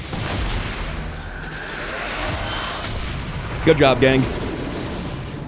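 A Whistling Storm Cannon in XCOM 2 fires, and a loud sustained roar of artillery-like blasts rolls on, followed by a brief, sharper burst of impacts. Someone speaks over the noise at the end.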